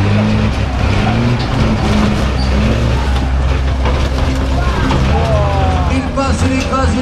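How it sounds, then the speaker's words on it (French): A stunt vehicle drives over and crushes a row of parked cars at a stunt show in Saint-Louis, heard as a loud, continuous rumble of engine and crunching metal, with a voice talking over it. "Il passe, il écrase, il pulvérise ce parc des véhicules mis en stationnement."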